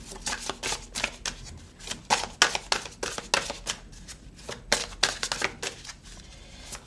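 Viking dragon oracle cards being shuffled by hand, a rapid series of crisp riffling and slapping bursts in an uneven rhythm, close and clear with no talking.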